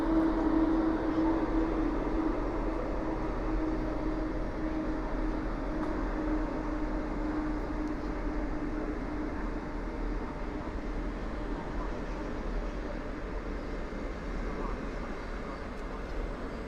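A delayed TLK Cormoran passenger train hauled by an EP07 electric locomotive pulls away from a Warsaw station, a steady low rumble with a faint electrical hum, heard from some distance and holding level throughout.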